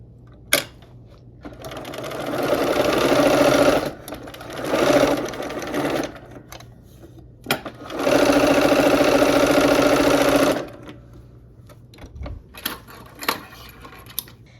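A home sewing machine stitches pinned quilt block pieces, running close and loud in steady bursts: one long run, two shorter ones, then another sustained run. Brief pauses and small handling clicks fall between the runs, with no talking.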